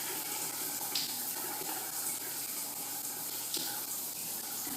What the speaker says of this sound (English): front body heads plus the overhead shower head, all working simultaneously